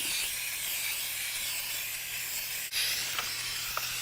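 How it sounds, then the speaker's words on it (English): Lacquer-based dye hisses steadily from a spray gun onto car seats, a close, continuous airy spray running the whole time with a brief break near the middle and a few faint clicks. "Now I'm going to actually put the dye on the seats. Lacquer based dye, cover up nice, very nicely."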